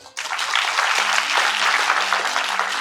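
An audience at a comedy show held at the Star Light Whampoa venue applauds the venue staff, a sudden burst of full, steady clapping that holds at an even level to the end.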